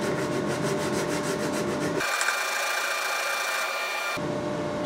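Sandpaper rubbing over a wooden wedge on a guitar neck at the headstock, close and loud: a rhythmic back-and-forth rasp of strokes at the start, then a smoother, continuous scratchy hiss that cuts off near the end.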